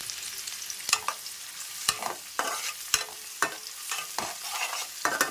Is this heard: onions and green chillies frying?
yes